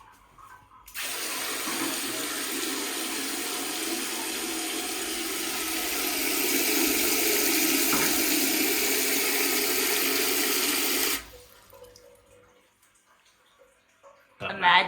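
A handheld bidet sprayer shoots a steady jet of water for about ten seconds, a continuous close hiss that starts and stops abruptly, followed by a quiet pause and a brief clatter.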